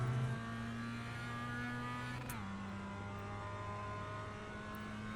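Mazda MX-5 race car on the Okayama short circuit, its engine droning steadily with a clear pitch drop at a gear shift, then holding a constant loud in-car tone under acceleration.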